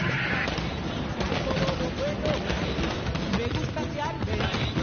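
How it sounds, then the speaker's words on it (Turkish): Continuous crackling and popping bursts of New Year's fireworks over Hong Kong skyscrapers, dense and steady throughout, with a busy crowd murmur underneath. "Ve bu tarafta gökdelenlere vuran havai fişek görüntüleri."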